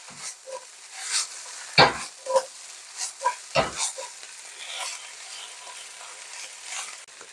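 Wilting beet greens, dashed with balsamic vinegar, get tossed in a hot pan: a soft sizzle underneath, broken by several sharp scrapes and clacks of utensils against the pan, with no talking.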